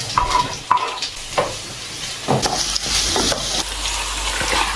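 Cabbage stir-fried in a pan at home, loud crackling sizzle broken by repeated scraping stirs, each stroke a short burst over the continuous frying hiss.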